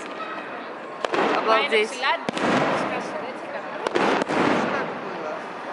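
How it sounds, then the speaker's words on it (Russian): Fireworks crackle and pop in short bursts for Orthodox Easter celebrations in Greece, with several sharp bangs rising over the excited talk of people nearby. "В Греции в честь рождения Христа, воскресения,"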